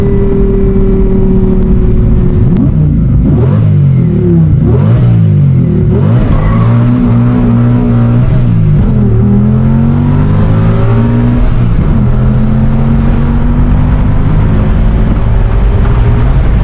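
Lamborghini Gallardo engine revving loud and close, the pitch climbing and dropping through repeated downshifts with sharp throttle blips, continuous and saturated throughout with no talk.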